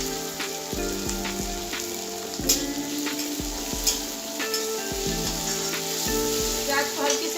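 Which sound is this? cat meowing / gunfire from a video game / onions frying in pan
onions frying in pan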